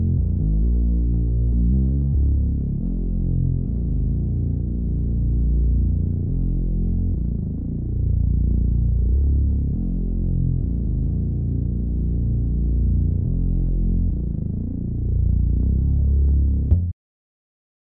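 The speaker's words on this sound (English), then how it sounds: "At the end, I added to the insert the Fab Filter Saturn effect with the preset Flutter Machine." A deep, continuous synth bass line in FL Studio processed through FabFilter Saturn's Flutter Machine preset, throbbing and humming with a wavering pulse and a steady level before stopping abruptly near the end.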